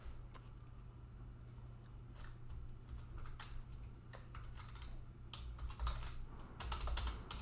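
Code being typed on a computer keyboard, quiet scattered key clicks in uneven bursts over a soft steady background hum, no talking.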